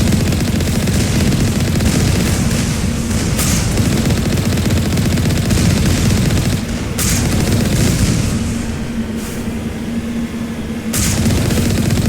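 Turrets firing in the video game Mass Effect, a loud continuous barrage of gunfire with heavy booms at intervals, dense and unbroken for the whole stretch.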